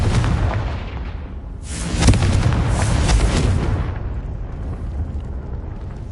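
A blasting-curse explosion in a Harry Potter PS4 game: a loud, roaring burst that swells suddenly midway, rumbles for a couple of seconds, then fades into a low, lingering roar.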